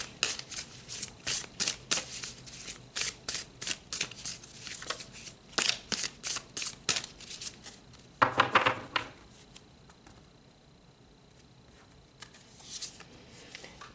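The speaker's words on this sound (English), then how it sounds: "let's pull some more cards" Oracle cards being shuffled by hand, a long run of crisp riffling and slapping bursts in quick uneven rhythm, close and fairly soft, with a brief louder flurry near the end before it goes quiet.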